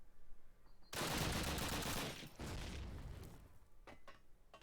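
Rapid automatic MP40 submachine gun fire in the Call of Duty video game during a competitive match, a loud sustained burst lasting about a second and a half, followed by further continuous gunfire and scattered shots.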